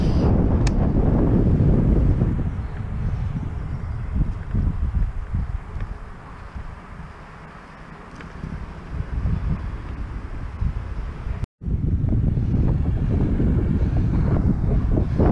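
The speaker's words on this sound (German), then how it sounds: "Aber sehr windig." Heavy wind buffets the microphone on a bike tour near Rottenburg, Germany, with a loud, continuous roar, easing slightly midway, then briefly cutting out before surging back.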